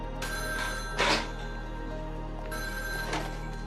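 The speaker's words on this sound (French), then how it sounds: "Et puis son téléphone sonne." A telephone bell rings in two bursts, each a bright, loud trill with a pause between, over a steady low background hum.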